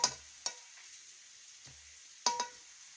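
A spoon stirring a broccoli casserole mixture in a pot, with a few scraping strokes at uneven intervals, close and clear against a quiet background.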